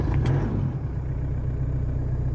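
Toyota Hilux N70 engine running after starting, a steady low rumble that holds level and close throughout.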